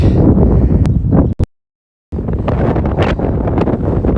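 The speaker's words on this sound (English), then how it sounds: "Oh, there's the wind." Strong wind buffets the microphone on a mountain, a loud, dense roar of rumbling gusts that cuts out abruptly for about half a second, then resumes just as heavily to the end, with no voices.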